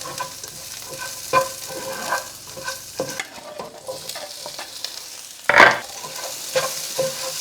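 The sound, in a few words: garlic frying in a pan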